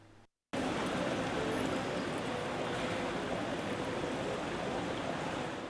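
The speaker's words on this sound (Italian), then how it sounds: "La fontana di Piazzetta Garzeria a Padova è l'unica ancora con l'acqua" Water running in a public fountain in Piazzetta Garzeria in Padua, a steady, dense outdoor splashing and rushing that holds evenly throughout after a brief cut, with no voices.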